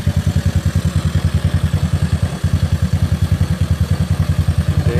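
A GY6 scooter engine idles while warming up with the manual choke off, a loud, close, steady rapid thumping putter that holds an even rhythm throughout.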